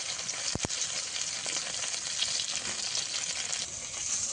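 Pieces of fish fry in hot oil with a steady, dense sizzle throughout, broken once by a couple of sharp clicks early on.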